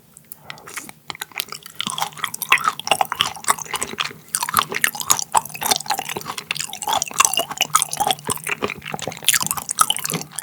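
Raw butterfish sashimi with its chewy belly skin, dipped in chojang chili-vinegar sauce, chewed close to the mic: a steady run of wet, squishy mastication with small clicks and drips, with no talking.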